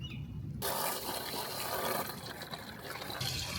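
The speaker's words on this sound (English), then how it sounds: "now it's time to go with the water hose and we gotta fill this bad baby out" A garden water hose fills a pond in a forest enclosure at a zoo, giving a steady, close rushing splash that keeps up without a break.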